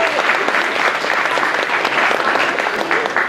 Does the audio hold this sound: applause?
yes